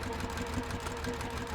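A sewing machine stitching quilt block pieces together for a Rocky Road to California block, running as a steady, continuous mechanical whir close by with no pauses.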